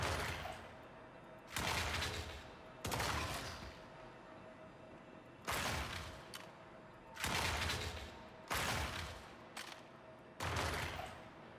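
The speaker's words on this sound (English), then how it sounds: "now this should be the shotgun" A shotgun in the space game Star Citizen fires about seven heavy, booming blasts at irregular intervals, each a sharp loud crack with a short decaying tail, over a low steady background hum.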